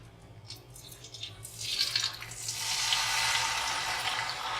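Chicken pieces hit hot oil on medium heat, a loud rising sizzle that swells after a couple of seconds into a steady hiss, with faint dripping and clinks beforehand.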